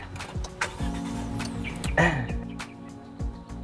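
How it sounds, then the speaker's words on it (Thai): An MG VS HEV 1.5 hybrid car starts by push button: a starter crank and an engine catching into a steady mid-pitched idle, with a few clicks and thumps inside the cabin and no talk. "ได้ยินเสียงเครื่องยนต์ติดขึ้นมา"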